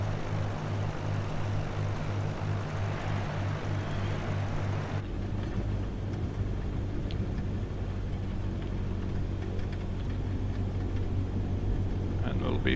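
A Cessna 152 propeller engine in the Microsoft Flight Simulator 2020 video game, a steady loud droning hum that shifts to a deeper, rougher tone partway through and continues evenly.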